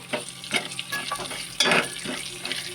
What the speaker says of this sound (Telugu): ఇప్పుడు చక్కగా మిరియాలు ఇవి పోపు అయితే వేగుతుంది కదండి